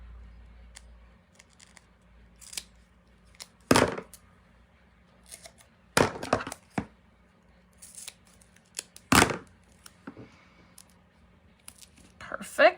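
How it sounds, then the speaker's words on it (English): Scissors snip through paper and cardstock while trimming pieces for a handmade Stampin' Up! stocking card, a handful of sharp, close cuts spaced apart between quiet handling rustles. "let me cut some of this down"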